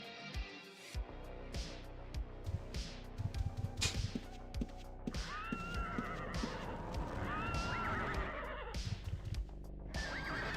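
Repeated horse neighs and whinnies, several in a row, with hoof clatter and thuds between them over a busy, game-like background, from the video game Ultima Online.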